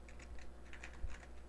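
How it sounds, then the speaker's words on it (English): Steady, rapid typing on a computer keyboard while entering a C program, with soft, even key clicks over a low constant hum and no speech. "I'll clear that and type in our program"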